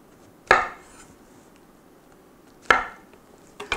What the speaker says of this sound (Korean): 그래서 자, 이렇게 4등분으로 썰어 보겠습니다.